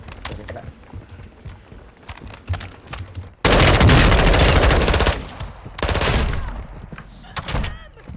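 Automatic gunfire in Warzone 2.0, a few scattered shots followed by two loud sustained bursts at close range, with players talking over the action.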